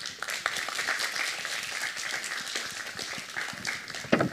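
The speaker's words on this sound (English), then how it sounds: "Give him an applause." An audience claps steadily for several seconds for a man who runs a national physics competition, at a student summer school session on quantum physics; dense, moderate-level clapping fills the whole stretch.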